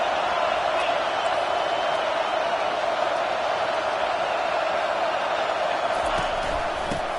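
Roaring stadium crowd in a college football video game, a loud, steady wall of massed cheering noise that holds without a break.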